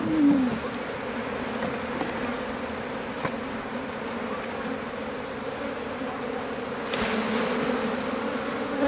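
Honeybees buzz in a steady, dense drone while a hive is opened and worked, loud and close throughout with faint knocks and rustles on top.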